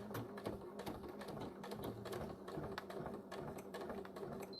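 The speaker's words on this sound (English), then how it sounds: "And I'm going to back stitch a little." A sewing machine back-stitching a key fob with a top stitch around length 3, running as a steady busy mechanical whir with light repeated clicking, fairly faint and continuous, no talk.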